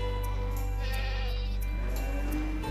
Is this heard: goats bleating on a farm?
yes